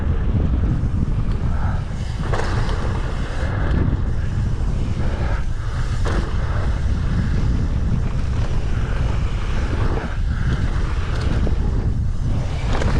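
A strong easterly headwind buffets the microphone with a loud, continuous low roar and rumble, gusting unevenly throughout with no speech.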